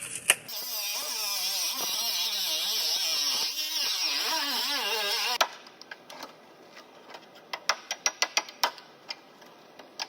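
A power tool cuts a car floor panel, a loud continuous whining grind with wavering pitch that stops abruptly midway, followed by a series of sharp metallic taps and clicks.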